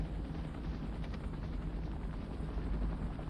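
A helicopter in the 1988 anime film Akira gives a steady, loud rotor thrum with dense low rumble, continuous for several seconds and without voices.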